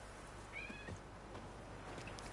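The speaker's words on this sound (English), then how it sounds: "There's a pussy cat in the room." A cat meows once in a room, a short, fairly faint rising call over steady low background hum, followed by quiet rustling.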